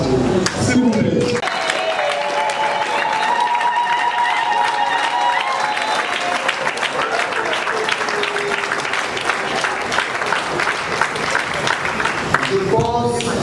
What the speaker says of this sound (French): je vous demande de vous lever et d'applaudir la personne de maman Kassongo